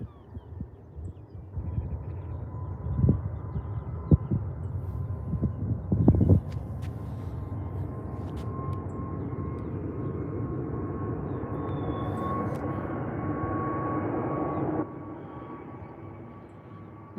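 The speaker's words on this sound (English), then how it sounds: "The EasyJet to Geneva is the one that's lined up. It's just pinged up now. The A321 Neo." An EasyJet Airbus A321neo takes off at Liverpool John Lennon Airport, a distant steady jet roar building and holding before fading, with a few nearby knocks and bumps early on.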